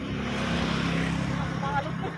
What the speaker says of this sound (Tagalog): So may dumaang malaking truck